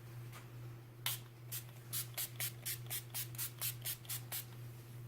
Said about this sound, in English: Spray it all over and set everything in place.